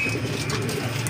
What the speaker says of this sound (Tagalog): Ayan yung mga ibon natin.